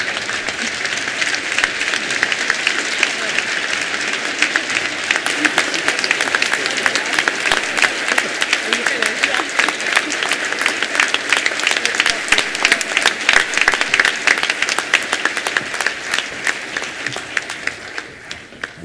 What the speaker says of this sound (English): join me in a round of applause for our incredible team, our families, friends, and ourselves